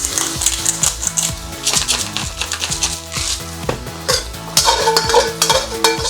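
Broccoli with oyster sauce stirred in a hot pan, with sizzling frying and repeated scraping, clattering strokes of a utensil against the metal, loud and close, with no talking.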